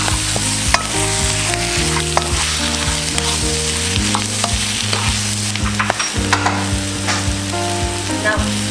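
Lobster pieces fry in a pan for a spicy Sri Lankan lobster curry, giving a steady, close sizzle throughout with scattered stirring knocks and a melodic tonal backing running underneath.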